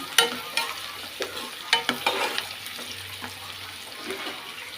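Onions, green chillies and turmeric are stirred in a frying pan. Soft sizzling runs under a few quick spoon scrapes and taps, close and fairly quiet, with no speech.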